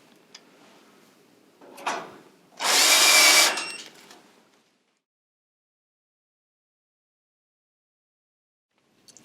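A power drill drives sheet metal screws into a steel panel of a Weil-McLain SlimFit boiler, with a short whir near 2 seconds, then a louder sustained burst of about two seconds, followed by silence.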